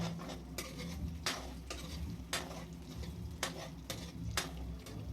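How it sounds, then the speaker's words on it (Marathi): Beaten eggs being stirred and fried in a pan for egg rice, with a steady sizzle and repeated spatula scrapes against the pan roughly every half second, close and clear with no talking. "सर्व अंडे आपण इथे फोडून घेतलेले आहेत आता यांना छान असं परतून घ्यायचं आहे"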